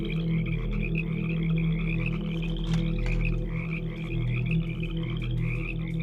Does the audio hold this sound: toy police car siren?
no